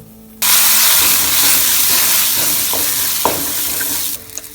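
Fenugreek seeds hit hot sesame oil for a tempering with a sudden loud hiss that holds as a close, intense sizzle for several seconds, then drops away abruptly.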